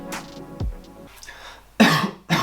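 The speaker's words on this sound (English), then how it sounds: "It was a cough." A person coughs in two short, loud, close bursts, with quieter room sounds and a faint thump before them.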